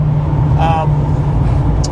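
Steady low engine drone of a Revology Boss 429 Mustang cruising at almost 60 mph on the Pacific Coast Highway, with a brief brighter exhaust whine rising over it midway; continuous and fairly loud.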